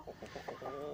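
A large year-old hen clucks in short rhythmic bursts close by, a quick series of soft calls within a single second.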